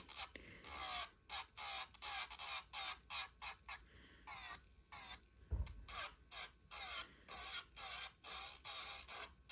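Electric nail file grinding off gel polish, a close, rasping whir that comes in short repeated bursts with brief pauses between passes, no talking.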